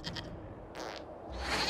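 Goat bleating in a video game, three short nasal cries in quick succession, close and fairly loud, the last one rising into a harsher bleat.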